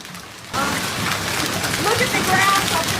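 Hail falling during a storm in Palm Beach County, Florida: a dense, loud, steady pelting roar that starts abruptly and holds, with faint voices underneath.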